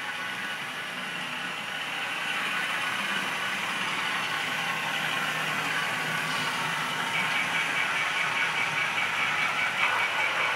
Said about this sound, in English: I just turned the sound on to the yellow train, the E9.